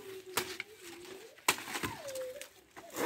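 A pigeon coos in soft, drawn-out low calls near a banana plant whose fallen fruit small birds are eating, with sharp intermittent clicks and rustles over outdoor background noise.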